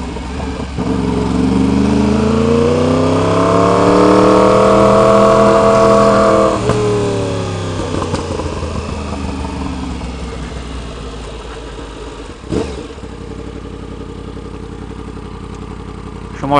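A 2016 Yamaha R1 motorcycle engine revs loud and close in one long rising and falling swell, then settles into a steady idle, with a brief sharp knock near the end.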